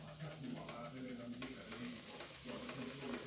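Breaded tilapia fillets fry in hot oil with a soft, steady sizzle and a few utensil stirs and clicks.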